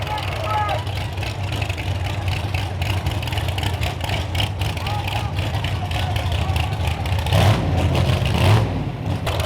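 Drag race cars at a no-prep event at Ohio Valley Dragway, engines droning loud and steady under an announcer's voice, with a harder rising roar near the end.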